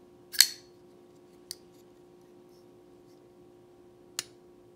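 A Chaves Ultramar Redencion Street folding knife blade moves through its detent, giving three short, soft clicks spaced apart against a quiet background hum, with no talking.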